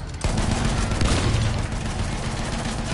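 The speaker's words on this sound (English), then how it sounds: "I'm trying to shoot this blimp down." Gunfire from a tank aimed at a blimp in the video game Battlefield 1, a dense rumbling barrage of blasts and booms that starts abruptly and continues loud and unbroken throughout.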